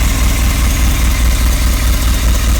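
A Rolls-Royce Silver Spirit idles steadily, a loud, close, low rumbling engine drone with slight pulsing and no other sounds.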